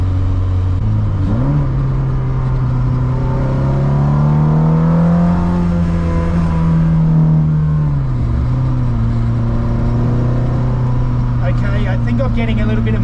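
A Ferrari engine fitted in an Alfa Romeo 105 revving at high rpm under light throttle; a loud, sustained engine wail that climbs, holds, then drops, with someone talking over it.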